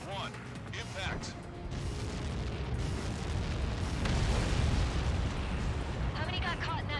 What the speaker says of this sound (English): How many got caught in that explosion?